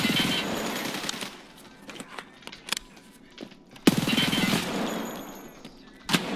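Rapid bursts of pistol fire in a video game crack out in several volleys, separated by short pauses and sharp single shots, loud and close.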